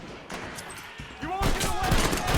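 Gunfire crackles through a Red Dead Redemption battle, a steady fusillade of overlapping shots that swells louder in the second half, mixed with shouting voices.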